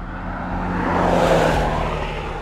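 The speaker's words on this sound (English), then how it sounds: "A car passing by." A single car drives past, its engine whir and tire noise swelling to a peak mid-way and then easing off as it moves away, heard alone without speech.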